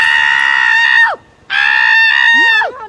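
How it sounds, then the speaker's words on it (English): A woman screaming loudly during an arrest, two long piercing shrieks close by, each cut off with a falling break, separated by a short pause. "Karen performs loud screeching."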